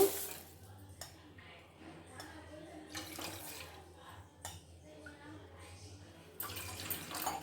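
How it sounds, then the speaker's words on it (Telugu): Water is poured into a kadai already holding milk, in a few short, quiet splashes, then a longer, louder stream near the end. "చూడండి, వాటర్ పోస్తాను"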